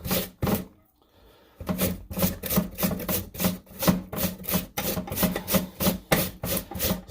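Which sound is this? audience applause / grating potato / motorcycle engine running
grating potato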